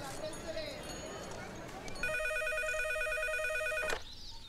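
A telephone rings with a bright electronic trilling tone, clearly heard for about two seconds over busy background sound and voices in a comedy scene.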